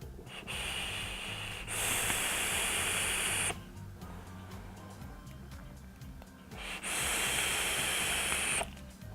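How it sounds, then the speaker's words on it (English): Two long, airy draws on an Ample Vape Mace RDA rebuildable atomizer with a 0.18-ohm coil at 75 watts, each a loud, steady rushing hiss of airflow lasting a couple of seconds, separated by a quieter pause. "I'll just give you an idea of the airflow and vapor production on it."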